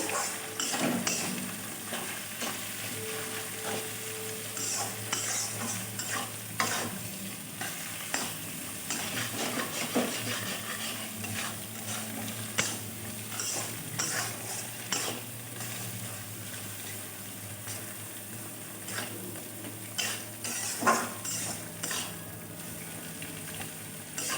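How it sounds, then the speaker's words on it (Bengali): Salted vegetables frying in a pan, a soft continuous sizzle with intermittent stirring scrapes and light clatter, fairly quiet and without talk. "নুন দিয়ে আমি ভেজে নেবো"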